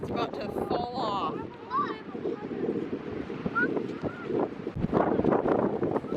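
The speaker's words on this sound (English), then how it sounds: "It's so windy. Oh my goodness. It's so windy." Strong wind buffeting the microphone on a Pacific Northwest beach, gusty rumbling roars rising and falling, with people talking and exclaiming over the blustery noise.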